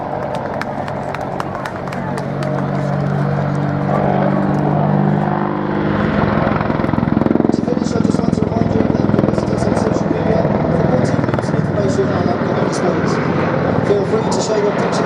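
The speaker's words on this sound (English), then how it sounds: "Attack Helicopter Display Team." Apache attack helicopters of the Attack Helicopter Display Team fly at the Duxford Air Festival, their heavy rotor thump and engine roar rising and swelling in the near distance, loud and continuous throughout, while a voice is heard over it at the start.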